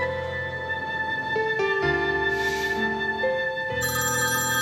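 A telephone ringtone plays a steady, loud electronic melody of sustained tones that shift pitch every second or so, continuing without pause inside a quiet room.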